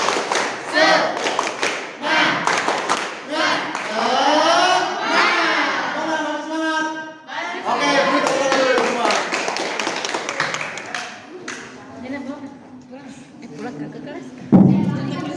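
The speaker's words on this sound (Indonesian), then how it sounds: "kita tepuk semangat dulu ya" A school class performs a rhythmic 'tepuk semangat' clapping chant, children's voices chanting in unison with patterned claps, followed by a teacher talking.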